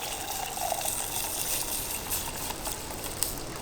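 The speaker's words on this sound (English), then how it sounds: "I'm gonna go ahead and add the water in" Water pours steadily into a cooking pot at an outdoor camp kitchen while preparing Mexican chicken and rice, a continuous close splashing fill with no talk.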